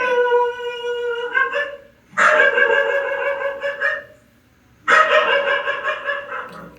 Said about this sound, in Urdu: کمرے میں کیوں بھونک رہا ہے یہ